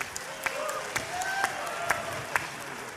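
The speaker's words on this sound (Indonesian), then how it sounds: "Tepuk tangan buat Pak Anies Baswedan." At a Muslim scholars' association working meeting, an audience gives scattered applause for Anies Baswedan, with a few sharp isolated claps standing out over a thin, moderately quiet crowd clatter.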